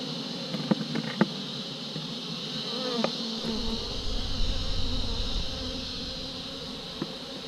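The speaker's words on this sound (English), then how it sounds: "Quite a few bees in here" A steady, dense buzzing of many bees inside a hive, close and continuous, with a few faint knocks and a low rumble joining partway through.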